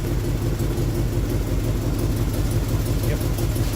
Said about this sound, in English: Sounds like I now have an exhaust leak.